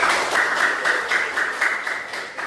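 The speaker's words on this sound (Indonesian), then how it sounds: "boleh tepuk tangan dulu untuk semuanya" A group claps together in a steady, even rhythm, a moderately loud run of regular hand claps with no talking over it.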